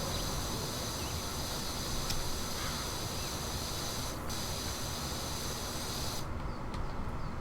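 A pressure washer sprays through a wide-angle nozzle in the PowerWash Simulator video game, a steady, loud, continuous hiss of water that runs unbroken from start to finish.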